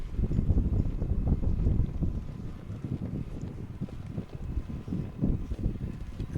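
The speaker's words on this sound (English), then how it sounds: "It's still just really gusty out here." Gusty wind buffets the microphone outdoors at an ultimate frisbee game, a steady low rumble that swells and eases throughout, with no voices.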